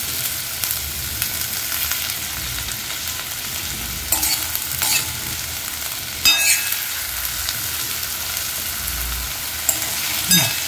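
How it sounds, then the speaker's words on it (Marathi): Potatoes and chili fry in a pan with a continuous sizzle, broken by occasional scrapes and clinks of stirring, close and fairly loud. "आता बटाटा टाकून ते चांगला हे करून घ्यायचा, परतून घ्यायचा, म्हणजे भाजून चांगला शिजला पाहिजे परतून."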